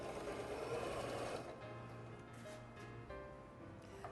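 Sewing machine stitching a fabric table runner with a machine presser foot, a steady mechanical whir heard close up that eases slightly partway through, with no talking.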